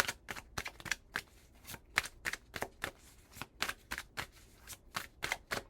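A deck of cards is shuffled close up, with repeated quick riffling bursts in an uneven rhythm throughout at a soft, intimate level and no speech.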